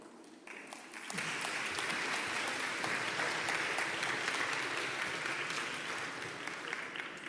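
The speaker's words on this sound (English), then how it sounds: "Thank you for your warm applause and welcome" An audience at an embassy diversity conference breaks into warm applause for the panel speakers taking the stage. The clapping swells after a soft start, then holds full and steady for several seconds, filling the room.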